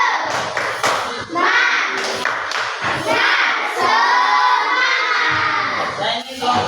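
Classroom students perform a rhythmic spirit clap, dense clapping mixed with children's shouts and chanting voices, loud and continuous throughout.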